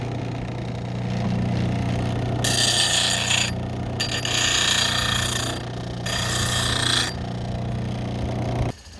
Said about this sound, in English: we'll grind it to fit